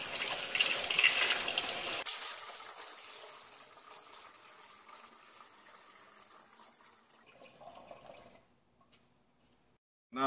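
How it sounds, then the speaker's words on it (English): Borax solution poured into a container on a deck, a splashing liquid pour that is loud for the first two seconds, then trickles and drips more quietly before stopping near the end. "So now we're pouring the borax substance into the container."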